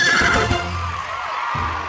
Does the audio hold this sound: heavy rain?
no